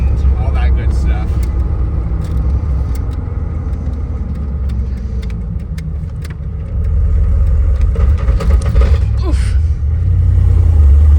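A 1993 Ford F-150 with a swapped engine rumbles loudly while accelerating, the low engine drone rising in stages as it works through the gears, with brief speech and cabin clatter over the top.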